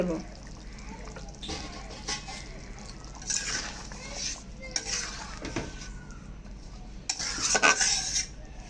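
Mustard hilsa curry simmering in a pan as mustard oil is drizzled over, with soft scraping and stirring, a few light clinks of a spoon, and faint bubbling that grows a little louder near the end.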